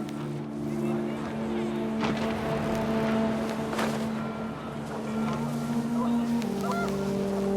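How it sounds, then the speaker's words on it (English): Geese honking in the video game What Remains of Edith Finch, a cluster of calls layered over a steady hum and wind-like wash, moderately loud with no speech. "panicked geese appeared and quickly went"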